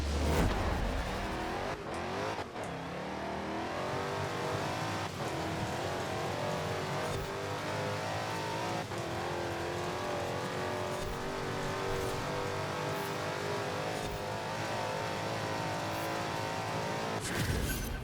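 A drag car built for wheelspin on a beach in Forza Horizon 4 revs hard and accelerates through repeated short-shifted gear changes, its loud engine rising and dropping in pitch over a sustained roar.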